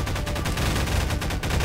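In Garry's Mod, SCP-066 gives off its defensive reaction noise, a loud, harsh, rapid burst of crackling blasts that runs for under two seconds with no talking.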